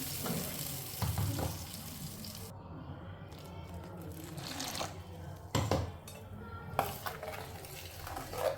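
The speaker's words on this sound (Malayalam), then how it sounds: "നന്നായിട്ടൊന്ന് ഇളക്കി യോജിപ്പിക്കുക" Crab curry masala with added water being stirred in a pan, heard as soft sizzling and frying with scraping and light clinks of a spoon against the pan, fairly quiet and close, with no speech.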